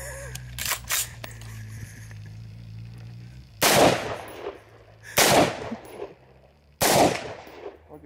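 Gunfire at a clay target shoot: three loud close shots spaced a second or two apart, each with a brief echoing tail, following a couple of softer knocks and a low background rumble.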